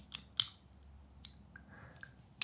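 A fidget keychain clicks in a few sharp, crisp snaps with uneven gaps between them, close and clear against a quiet background.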